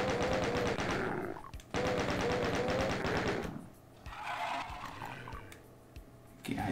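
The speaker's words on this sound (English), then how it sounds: "These chain gunners are a real pain," Chaingunner enemies in the video game Doom 2 fire machine guns in rapid, loud, continuous bursts with a brief break between them. Quieter game noise follows.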